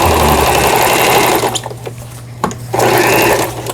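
A Brother home sewing machine runs loudly and steadily, its motor and needle whirring, then pauses briefly and starts up again close by, with no talk over it.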